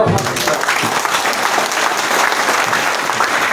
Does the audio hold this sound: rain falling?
no